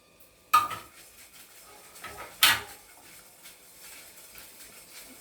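Spices and garlic being dry-roasted in a pan for a moong dal breakfast dish, with a couple of sharp metallic clanks of spoon or utensil against the pan amid quiet kitchen background.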